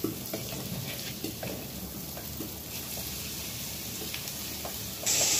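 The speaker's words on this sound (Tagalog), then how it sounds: "habang piniprito natin yung tokwa, maglagay naman tayo ng butter dyan sa ating wok" Tofu frying in butter in a wok: a steady, close, hissing sizzle with faint scrapes and taps of stirring throughout, no voices.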